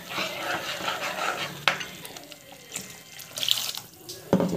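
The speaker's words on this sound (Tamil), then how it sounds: "ஸோ புளி கரைச்சி தண்ணி ஊற்றிக்கணும்." Tamarind water splashes and pours into a pan up close, with irregular gushes and a few clinks, no talking.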